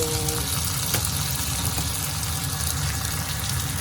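Chopped chili and tomato frying in a pan with pork, a steady close hiss and crackle of sizzling oil running unbroken throughout, with no talking.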